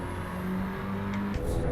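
A race car in the Assetto Corsa Evo racing game, its engine droning at a loud, steady pitch that drops suddenly as it shifts, then carries on revving.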